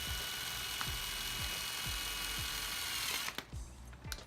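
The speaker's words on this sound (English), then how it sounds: "Take your bit on your drill, right through the middle, right above the lip, under the cap." A steady, loud mechanical whir of an electric drill boring through a plastic lid just under the cap, with rhythmic clicking pulses, ending as the motor stops and the bit pulls free.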